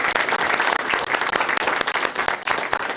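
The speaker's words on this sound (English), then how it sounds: "Let's give him a big round of applause." An audience claps after a lecture on transportation engineering, dense, close applause from many hands running steadily for a few seconds.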